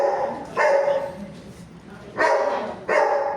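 A dog barks three times, close and fairly loud, the barks spaced unevenly with quieter gaps and a faint whimpering tone between them.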